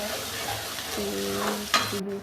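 A tadka of spices for Punjabi-style rajma masala sizzles in a pan as it is stirred, giving a continuous close crackle with scraping strokes and a brief louder hiss near the end, while a voice speaks faintly underneath.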